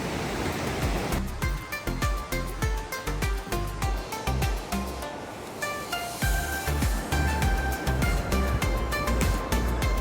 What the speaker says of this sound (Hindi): और आप सुन सकते हैं मेरे बैकड्रॉप में प्यारी सी नदी की आवाज़